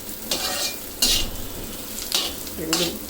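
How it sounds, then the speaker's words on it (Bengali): Onion, garlic and ginger frying in a pan for shahi paneer, with a steady close sizzle broken by several louder scraping stirs. "এখন দুই তিন মিনিট ভেজে নিব এই পেঁয়াজ রসুন আদা"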